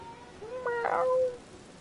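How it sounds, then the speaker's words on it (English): A cat gives a single short, rising meow against a quiet background. "Meow."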